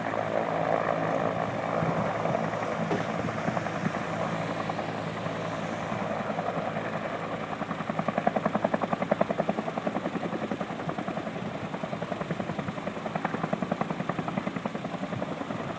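A helitanker helicopter landing to reload at the Cocos Fire in San Diego, a loud steady rotor and turbine roar with rhythmic blade thumping that swells as it comes in close.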